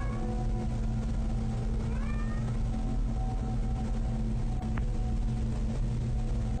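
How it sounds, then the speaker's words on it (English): A lone cat meows in a bedroom at night, as if looking for its missing companion: a few clear, drawn-out cries over a constant low hum, fairly close, with no talk. "her cat is meowing, like it's looking for its companion"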